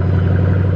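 Car engine running steadily just after a cold start, heard from inside the cabin as a loud, continuous low drone with a strong steady hum, no talking.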